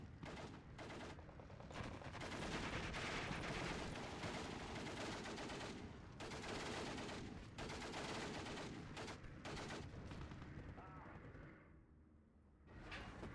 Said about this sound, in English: I had placed a machine gun here in the middle and 2 machine gun on the side to make sure to kill these guys off